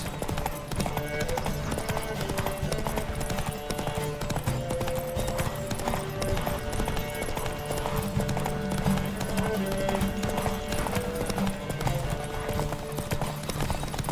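Rapid, rhythmic hoofbeats of a galloping horse in a race in The Witcher 3 run continuously over a dense layer of background music.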